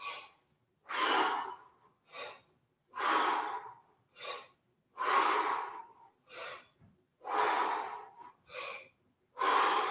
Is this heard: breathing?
yes